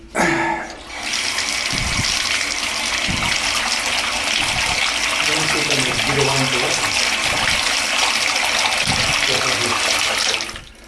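Water runs steadily into a drain being tested for flow, a continuous broad rushing gush lasting the whole stretch, close and loud, with low thumps and clatter beneath it.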